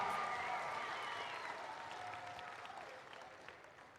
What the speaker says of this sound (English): I want to hear a big round of applause for all the volunteers.